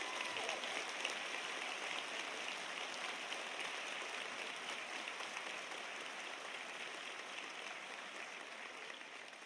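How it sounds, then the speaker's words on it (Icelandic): A large hall crowd at an Icelandic commercial college graduation ceremony keeps up long, dense applause, a continuous rain-like roar of clapping that fades slightly toward the end. "Gefum henni aftur gott klapp"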